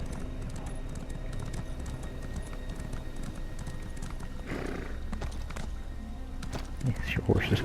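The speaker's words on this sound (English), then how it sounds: "Yes, your horses can jump." A horse galloping in The Elder Scrolls Online, a steady rapid run of hoofbeats under continuous game noise, ending with a brief whinny and a heavier thud near the end.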